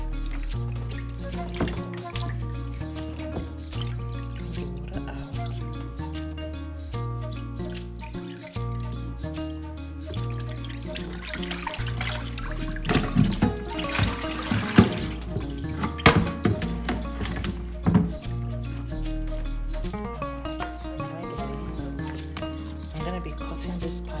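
Water runs and splashes in a kitchen sink as a Thanksgiving turkey is drained after washing, with irregular trickles and drips, a louder gush midway, and a voice talking underneath.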